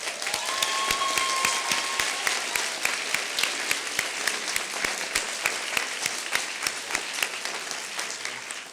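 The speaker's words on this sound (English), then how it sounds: "Let's give them a round of applause." Sustained audience applause at a graduation recognition ceremony for adult and transfer bachelor's students, dense steady clapping filling a large room at full strength throughout, with no talk over it.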